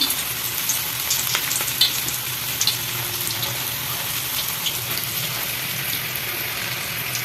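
Onion pakoda batter crackles as it drops into hot oil, giving a dense, even sizzle with a few small pops and splashes heard up close.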